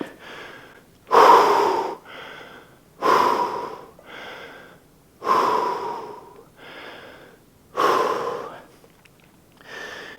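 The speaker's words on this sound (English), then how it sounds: "It's a good move to try to slow down your breathing at this point." A lifter recovers after a heavy set of squats, with four loud, gasping inhales at regular intervals, each followed by a softer, rasping exhale, close to the microphone and with no talk.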